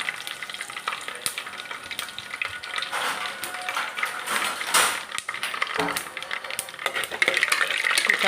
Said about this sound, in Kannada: ಆಮೇಲೆ ಈಗ ಕರಿಬೇವಿನ ಸೊಪ್ಪನ್ನು ಹಾಕ್ತಾಯಿದ್ದೇನೆ